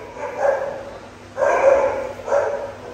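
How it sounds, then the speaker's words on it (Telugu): German Shepherd police training dogs bark nearby at a training facility in Israel, three loud, drawn-out barks in a slow uneven rhythm against quiet surroundings. "పోలీస్ ట్రైనింగ్ డాగ్స్ అన్నమాట."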